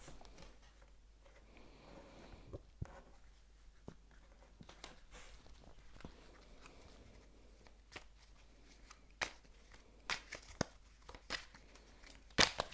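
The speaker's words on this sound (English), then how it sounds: "I'm going to shuffle some of these Gypsy Oracle cards" Gypsy Oracle tarot cards are shuffled by hand, a quiet scatter of soft riffles, crinkles and sharp card snaps close to the listener, irregular and growing denser toward the end.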